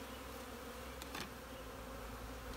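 Honeybees at a hive drone in a faint, steady buzz that runs unbroken throughout, with a brief louder swell near the middle and no voices.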